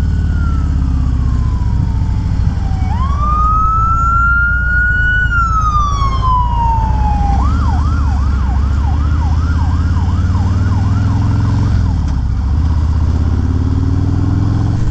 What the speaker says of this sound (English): Here we've got sirens.